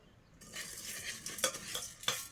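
Dal and tomatoes fry village-style in a hot pan, a steady close sizzle starting after a brief quiet, broken by a few sharper scrapes and clinks of a stirring spoon.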